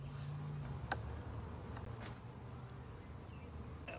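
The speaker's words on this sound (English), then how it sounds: "And look at them go." Honey bees fly around an open beehive at a zoo, giving a steady low buzzing drone with a few brief louder passes close by, no talk.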